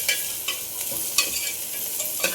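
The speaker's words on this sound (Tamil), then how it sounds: "3 பச்சை மிளகாய் அதை எடுத்துகிட்டு திருப்பி நல்லா ஃப்ரை பண்ணிவிட்டு" Green chillies fry and get stirred in a pan, with a steady crackling sizzle and a few sharper scrapes of the spoon spaced through the stretch, close and moderately loud with no talk.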